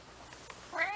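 A single cat meows once, close and fairly clear, rising in pitch near the end over a low background hum.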